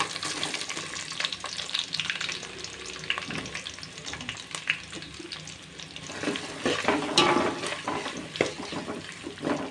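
Onions fry in a pan with a steady crackling sizzle, close and moderately loud, with occasional stirring scrapes and a louder surge of sizzling toward the end.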